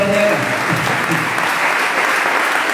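Congregation in a church at a morning service applauding in praise, a full, steady wash of clapping with a faint voice briefly audible beneath it at the start.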